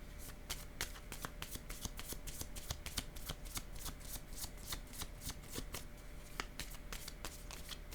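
A deck of cards riffle-shuffled over and over in a quiet room, a steady run of crisp, rapid flutters and snaps close to the listener with no voices.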